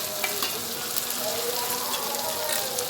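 Whole garlic cloves frying in a pan for a dried-fish dish, a constant close sizzle of hot oil with the scrape of stirring running through it.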